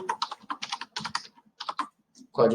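Fingers type on a computer keyboard while entering a field in a Microsoft Access database, with close, rapid keystroke bursts separated by short pauses and a louder cluster at the end.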